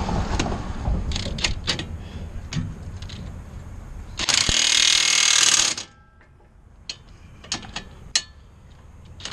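A hand ratchet works on a car's suspension bolts during a brake rotor and axle job, with a burst of rapid clicking mid-clip and scattered metallic clicks and knocks before and after.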